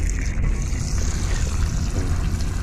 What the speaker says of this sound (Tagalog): Malakas din siya kasi maliit ang tubo, ang hose niya.